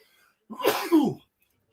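One loud, close sneeze from a man on a live sports stream, a short sharp intake followed by a forceful burst, alone in an otherwise quiet room.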